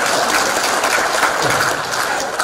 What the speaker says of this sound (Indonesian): Makanya kalau yang boleh tepuk tangan buat beliau.